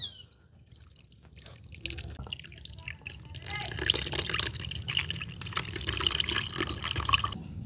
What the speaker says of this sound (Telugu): మెత్తగా పిసుకున్న చింతపండు పులుసు కొద్దిగా పోసుకుందాం